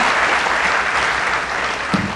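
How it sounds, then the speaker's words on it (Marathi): An audience at an honouring ceremony claps loudly and steadily, dense applause from many hands filling the hall with no pause. "जोरदार टाळ्या आपण सरांसाठी वाजवूया"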